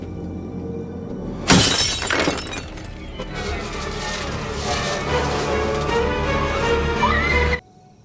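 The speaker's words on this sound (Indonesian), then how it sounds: "Andrew memecahkan salah satu kaca di mobil itu" A car window shatters in one sharp, loud crash, followed by a spray of glass fragments tinkling and settling over a sustained noisy background that cuts off abruptly at the end.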